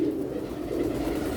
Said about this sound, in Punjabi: ਕਬੂਤਰ ਜ਼ਿਆਦਾ ਨੇ